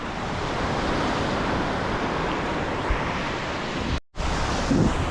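Steady roar of strong ocean surf breaking close by on a rocky shore, a continuous wash of water noise with wind buffeting, briefly cutting out near the end.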